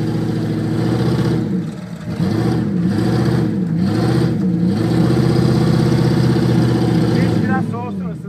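A car engine revs up and down in repeated surges, loud and close, with a rough low rumble and voices in the background.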